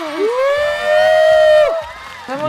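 A loud, sustained shout and whoop from a studio audience at the start of a talk show, with a bright, held vocal cry that rises and falls for about two seconds before a brief drop.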